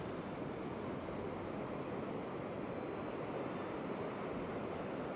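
Ocean surf at Klong Prao Beach on Koh Chang island makes a steady, even wash of waves rolling in, with no voices over the continuous rush.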